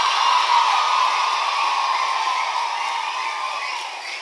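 A large audience cheers and claps at a memorial ceremony in Tamil Nadu, a steady, dense crowd roar that stays loud and then gradually tapers off.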